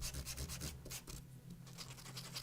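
Sandpaper rubs over textured cord paper in a junk journal in quick, repeated scratchy strokes, soft and close, with brief pauses between passes and no voices.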